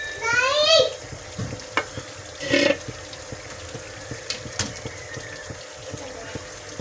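Tomatoes and mutton for aloo gosht sizzle and fry in a pot with steady crackling, while stirring scrapes come in two louder bursts over the ongoing hiss.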